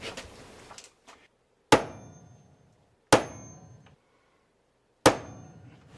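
Three sharp, ringing metallic hammer strikes on a center punch marking a metal piece, evenly spaced with pauses between, after a few lighter taps at the start.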